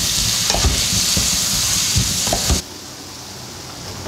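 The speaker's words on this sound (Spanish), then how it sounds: "En este momento voy a agregar lo que es el tomate. Lo vamos a mezclar." Tomato is stirred into sautéed chili and onion in a hot pan for a shrimp and vegetable dish, a loud steady sizzle with scraping stirs that cuts off sharply partway through, leaving a quieter hiss.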